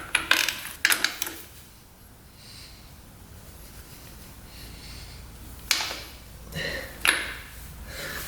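Ratchet clicks from loosening the main oil filter on a 625cc supermoto motorcycle: short, loud bursts of ratcheting near the start and again toward the end, with quieter mechanical shuffling in between and no talk.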